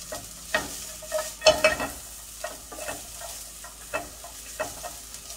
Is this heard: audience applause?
no